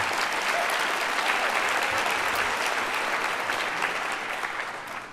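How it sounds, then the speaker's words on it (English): A large audience at a mayor's State of the City address in a Cleveland performing arts center breaks into sustained applause, a thick, continuous patter of many hands that holds steady then begins tapering off. "That deserves a round of applause."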